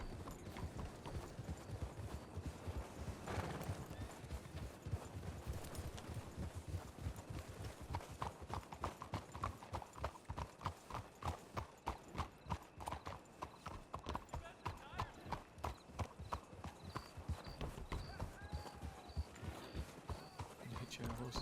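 Horse hooves clip-clop at a walking pace in the Red Dead game world, a steady stream of close, sharp hoofbeats with an occasional whinny, running under conversation.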